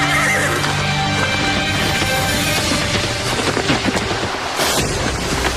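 A horse neighs loudly in a long whinny over hoofbeats, with booming, rumbling noise beneath and a sharp burst near the end.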